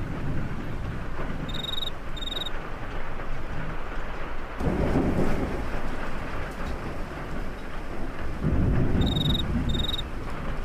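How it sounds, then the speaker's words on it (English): Steady muffled rain ambience in a video game, a soft continuous wash of rainfall with a low rumble swelling twice, and faint high chirping accents recurring at the start and end. "There's something really soothing about the sound of muffled rain like that."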